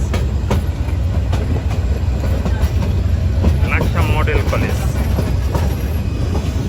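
The Meghna Express passenger train rumbles steadily along the rails near Laksam, Bangladesh, with a continuous low roar and faint clicking, while someone speaks briefly over it.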